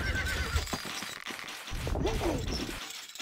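Horse neighing in the Stronghold Crusader game, a loud whinny mixed with clattering hooves and crashing battle noise, with a second neigh near the end.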